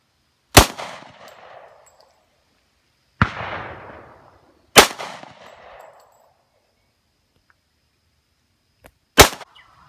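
Four loud, sharp shots from Smith & Wesson .500 and .460 magnum revolvers, each cracking alone and ringing out in a long echoing tail, with pauses of one to four seconds between them and no talk.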